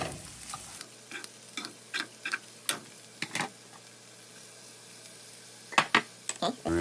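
Spinach being stirred in a frying pan for an omelette: quiet sizzling under a run of sharp scraping and tapping strokes from the utensil, irregular and close, with pauses between bursts.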